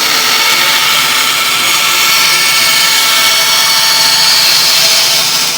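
A bandsaw cuts straight through a board held in a shop-made circle-cutting jig, a loud continuous high whine and rasp of blade in wood, steady throughout with no talk.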